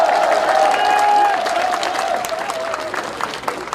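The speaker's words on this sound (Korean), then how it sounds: "여러분 박수 한번 크게 보내주세요." A large audience at a Korean political rally gives loud, close applause with some cheering, and a sustained tone rings over the dense clapping before the ovation gradually eases.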